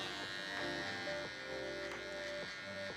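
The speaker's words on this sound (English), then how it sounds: "grabbing my cordless detailer" A cordless hair detailer clipper buzzes steadily up close while cutting a fade, its motor hum shifting slightly in pitch as it moves through the hair.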